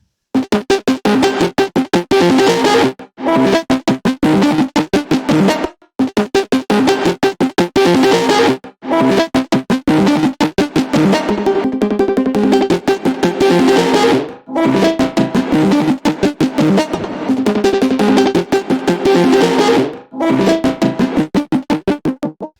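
An electronic drop-solo sample plays with reverb, delay and kickstart sidechain pumping, a dense, loud wall of sound chopped into rapid rhythmic pulses, with brief gaps every few seconds.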